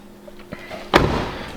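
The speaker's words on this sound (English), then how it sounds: "Doors shut a whole lot easier than the F-bodies." A race car project's door shuts with a solid thud, preceded by a couple of faint clicks and knocks.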